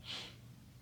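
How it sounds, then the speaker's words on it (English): A short breath in through the nose during a calming breathing exercise, a single quick, faint, hissy inhale. "Short breath in, long breath out."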